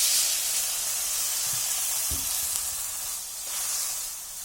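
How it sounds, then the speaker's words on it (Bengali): Milk poured into a hot pan of fried vermicelli gives a steady, close frying sizzle and hiss, with a brief splash near the middle and no talking. "সেমাই ভাজা শেষ, এখন দিয়ে দিব দুধ।"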